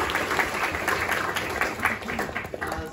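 Audience at an indoor property investment meetup in Melbourne applauding, a dense burst of many hands clapping close by that holds steady for the whole stretch.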